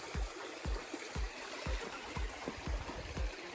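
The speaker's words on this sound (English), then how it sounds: "Lots of good flowing water." Steady flowing stream water on the Appalachian Trail trickles and babbles continuously, with soft low thumps recurring every half second or so underneath, like footsteps nearby.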